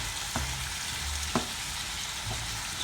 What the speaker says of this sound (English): I'm gonna let that sizzle up, kind of mix it in a little bit.